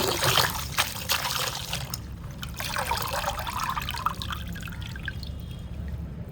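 Water trickles and drips steadily through a kitchen strainer, draining off freshly washed fenugreek (methi) leaves, heard up close with a continuous dribbling flow that softens slightly toward the end.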